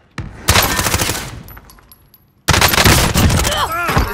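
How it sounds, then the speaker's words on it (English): Bursts of automatic gunfire in the video game Call of Duty: Warzone, two loud dense volleys separated by a quieter pause, with a voice speaking briefly over the shooting. "They're shooting at me."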